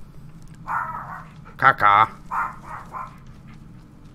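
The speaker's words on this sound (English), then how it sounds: "It is my dog!" A dog barks and yips in a short, close cluster in the middle of a Blair Witch game session, with brief quiet background noise before and after.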